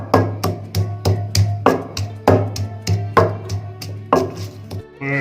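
Garlic pounded into a paste for stuffed tinda sabzi, sharp rhythmic thuds in a steady series of about a dozen strikes, close and loud, with no talking.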